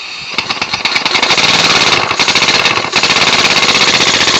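A recompression air engine chugs loudly at close range in a rapid, steady pulsing rhythm that speeds up within the first second and then keeps an even beat.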